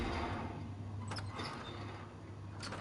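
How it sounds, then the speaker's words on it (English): A wooden contraption stop effect from the game Dreams: a few brief knocking clatters over a low, steady hum, fairly quiet and without talk. "Wooden contraption stop."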